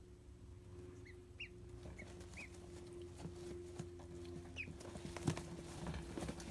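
Ducklings peep in soft, high chirps scattered across the clip, a few short bright calls over a low steady hum, faint and close with light rustling.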